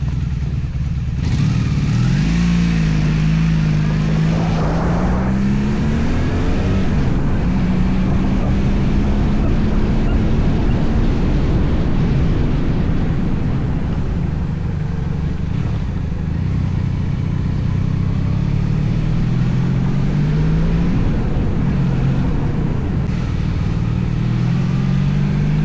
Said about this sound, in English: let's take a ride, guys, over to the workshop